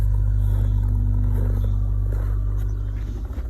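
A Ford Fiesta ST idling and revving in cold winter conditions, a loud deep exhaust drone close by with a steady low hum that fluctuates toward the end.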